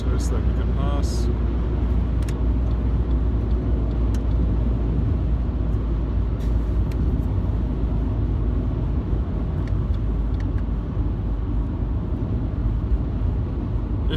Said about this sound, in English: here we go, I got to pass a truck